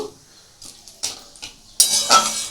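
Mutton liver with chili flakes and bay leaves stirred in a pan, a few separate spoon clanks and scrapes against metal, the last one louder and longer, close by with no talk.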